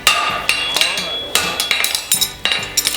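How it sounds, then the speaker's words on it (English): Repeated hammer blows on a horseshoe during forging, sharp metallic ringing strikes in an uneven rhythm of about a dozen hits, close and loud with a sustained ring between blows. "I'm going to start hammering back"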